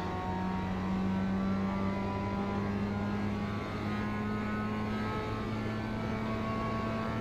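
A Mazda Cup race car in iRacing at Charlotte Speedway holds a steady, loud engine drone in high gear, its pitch slowly shifting as it runs through the final corner, continuous from start to end with no talk.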